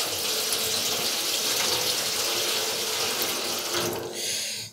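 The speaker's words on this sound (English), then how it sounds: "I'm just going to put a little bit more water." Water pours steadily into a metal chafing dish pan holding potatoes for several seconds, a bright continuous splash that cuts off near the end.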